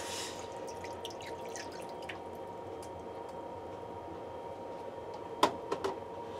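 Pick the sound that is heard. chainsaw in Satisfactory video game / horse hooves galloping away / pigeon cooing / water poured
water poured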